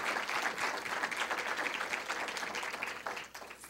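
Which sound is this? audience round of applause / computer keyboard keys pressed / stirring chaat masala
audience round of applause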